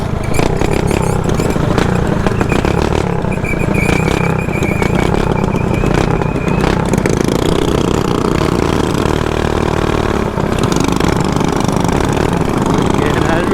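Mini bike engines run loud and continuous at close range while the bikes ride along, a steady motor drone with shifting pitch and people talking throughout.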